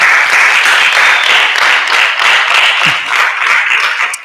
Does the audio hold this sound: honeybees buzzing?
no